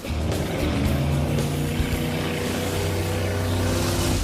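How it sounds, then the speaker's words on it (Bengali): Several cars drift in circles through water, their engines holding a loud, steady droning hum with shifting pitch and a constant wash underneath, and no talking. "ও ওরা তো জলের মধ্যেই ড্রিফট করছে"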